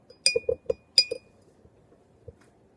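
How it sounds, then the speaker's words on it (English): Jolly Ranchers stirred in water in a glass cup set off several sharp, bright clinks near the start, then a few softer knocks and a faint tap near the end, close and quiet, with no voices. "What if I give it a nice stir?"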